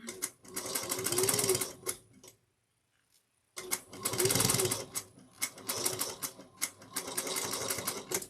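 Sewing machine stitching a slouch shoulder bag, running in steady close bursts with a short pause around the middle before resuming.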